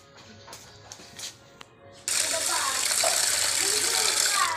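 Cooked skinless sausages being rinsed in water: a soft voice and light clinks come first, then a sudden steady gush of running water fills the rest, close and loud.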